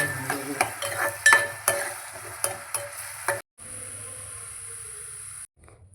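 Onion pieces sizzling in a generous amount of oil for a mushroom gravy curry, stirred with sharp scraping strokes, then a steady hiss of frying that cuts off abruptly.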